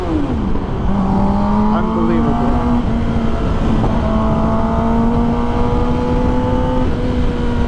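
Kawasaki ZX10R motorcycle engine revving inside a Los Angeles tunnel, loud and close, with rising and falling pitch sweeps and sustained high revs echoing off the walls, steady road and wind roar underneath.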